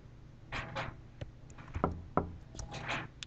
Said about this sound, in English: Love the knocking.